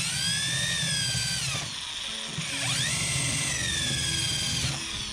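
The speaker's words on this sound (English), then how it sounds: "Now we need to go ahead and countersink these holes." Power drill countersinking holes in aluminum jon boat struts, a loud whining motor that rises and falls in pitch across two bursts, dipping briefly in between.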